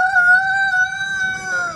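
A backyard chicken crows like a rooster, one loud, close, sustained call that holds steady and trails off, alone with no talk over it.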